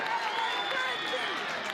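Crowd at a college softball game cheering and applauding after a right fielder's catch and throw, a dense wash of clapping and shouting from the stands, steady and moderately loud.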